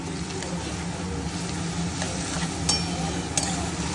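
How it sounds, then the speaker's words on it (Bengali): Onions deep frying in a pan for a Sunday mutton dish, giving a steady close sizzle with a few clinks of the spoon as they are stirred. "পেঁয়াজটা আমি এখন খুব ভালো করে ডিপ করে ভাজবো"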